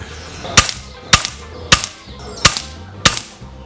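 A .177 air rifle firing JSB KO slugs at a paper target, five sharp, loud shots evenly spaced about half a second apart, each a crisp crack with short decay, nobody speaking.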